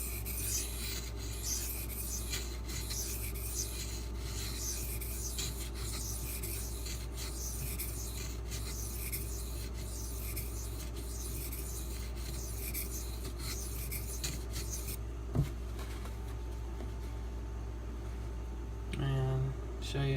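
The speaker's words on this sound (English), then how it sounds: "before I run it across the silicon carbide" A Spyderco Native 5 knife with a Maxamet steel blade is drawn over a silicon carbide stone, making a continuous rasping scrape with repeated strokes for about fifteen seconds before it stops. Near and steady, with no voice over it.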